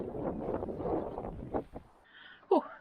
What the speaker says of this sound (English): Oh, very windy here,